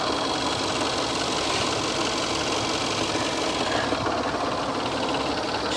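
A Cadillac ATS-V carbon fiber engine runs steadily at idle under an open hood at a dealer auction, a close, continuous mechanical hum with a faint ticking vibration throughout.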